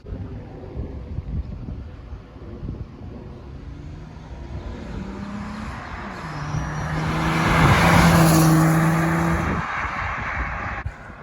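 A 2010 Ford Mustang V6 passes by outdoors, its engine note swelling as it approaches and fading as it moves away, with wind buffeting the microphone throughout.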